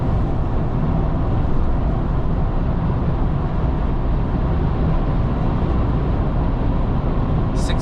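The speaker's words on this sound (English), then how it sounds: "Now obviously we have to check out the interior noise" Cabin of a 2024 Chevy ZR2 diesel pickup on 35-inch tires while driving, filled with a steady, dense low road and engine rumble that stays even throughout, with no talk.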